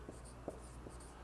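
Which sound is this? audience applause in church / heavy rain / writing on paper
writing on paper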